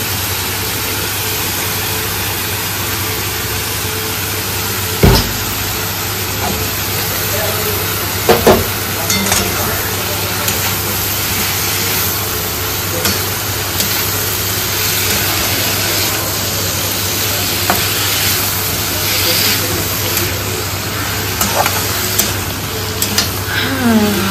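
Shredded cabbage is stirred in a pan with a ladle over a constant frying hiss, with occasional sharp scrapes and clinks of the ladle against the pan.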